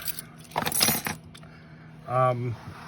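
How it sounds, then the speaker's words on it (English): A bunch of keys from an everyday-carry pocket load jangles in a short, close metallic burst, followed by a brief hummed voice sound. "So those are my keys."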